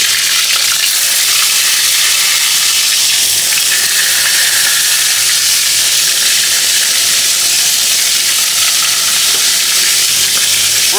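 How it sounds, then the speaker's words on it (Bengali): Eggplant slices fry in a pan of hot oil, a loud, dense, steady sizzle that crackles continuously and close up with no talking. "এখন একে একে বেগুনগুলো দিয়ে দিই"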